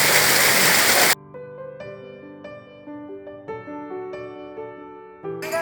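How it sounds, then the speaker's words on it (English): Glacier meltwater stream at the Frosted Glacier on the trail to Hemkund Sahib, heard as a loud, close rushing of water for about a second before it cuts abruptly to tonal music. "That's the water flow which was there"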